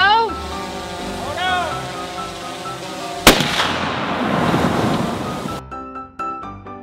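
Massive fireball explosion outdoors: a sudden sharp bang followed by a loud, broad roaring whoosh lasting a couple of seconds, with voices and wind noise before it and chirpy tones after.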